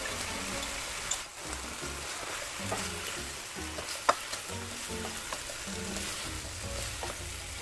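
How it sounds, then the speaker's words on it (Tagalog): Red curry paste is stirred into a sizzling chicken curry mixture in a pan, with a soft steady crackle, scattered spatula scrapes and one sharp clink over the quiet frying. "ang susunod natin ilagay dito, ang red curry paste. Tapos, ipaghalo lahat dyan sa mixture"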